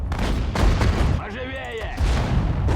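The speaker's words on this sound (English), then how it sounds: "Look at those explosions." Heavy booms and rumbling artillery blasts roll through a Sudden Strike 4 battle on an icy road, loud and dense, with a brief voice-like tone rising through the middle.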